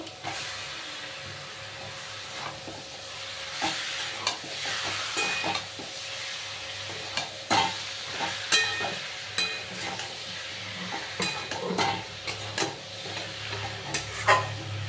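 Loach fish frying in oil with cumin, green chilli and chilli powder, a continuous close sizzle with frequent scraping and clattering strokes of a spatula throughout.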